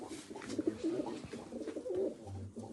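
Breeding pigeons coo in a low, repeated burbling rhythm, close by in a coop, with some faint background shuffling.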